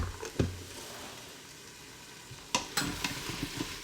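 A utensil stirs garlic into mashed cauliflower in a pan, quiet sizzling beneath a few sharp scrapes and knocks that come mostly toward the end.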